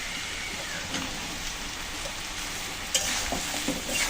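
Soybeans added to potatoes fried until reddish, with a steady oily sizzle and occasional stirring scrapes and clatters, close and alone.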